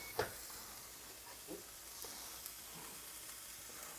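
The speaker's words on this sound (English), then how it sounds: "now all we're gonna do is just simply flip this meat as it'll have a nice sear on it" Ground turkey sears in a hot pan with a steady, fairly quiet sizzle and a few soft clinks as the meat is flipped, no voices over it.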